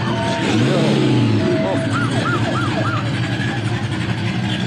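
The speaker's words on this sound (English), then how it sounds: "I hear a siren." A wailing siren rises and falls in short repeating sweeps, heard over steady road noise and engine hum from inside a moving car during a classic car cruise in Redding.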